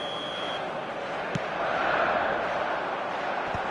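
Stadium crowd noise from a football video game, a steady broad roar that swells slightly mid-clip, with a couple of brief thuds.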